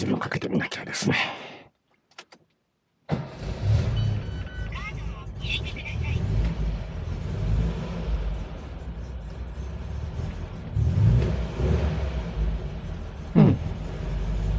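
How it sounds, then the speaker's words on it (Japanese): An MGB sports car engine starts after a brief silence and runs with low rumbling revs, steady and close, with a sharp burst near the end. "エンジンをかけてみなきゃですね。"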